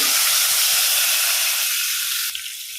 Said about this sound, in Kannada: ಎಣ್ಣೆ ಬಿಸಿ ಆಗುವಾಗ ಇದಕ್ಕೆ ಸ್ವಲ್ಪ ಅರಶಿನ ಹಾಕ್ಕೊಳ್ಳಿ